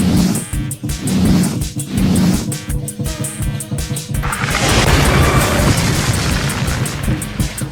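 A loud, rumbling booming magic explosion sound effect with crashing bursts, followed by a dense roaring wash of noise that fills the rest of the clip.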